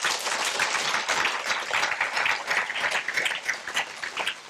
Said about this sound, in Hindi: इस बात पर ताली बजाई जा सकती है।